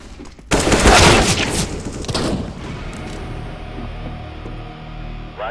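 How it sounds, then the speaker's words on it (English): Video-game gunfire and a flashbang: a sudden loud burst of rapid shots and a blast that rings out, then a fading hiss and low rumble trailing off. "Throwing flashbang."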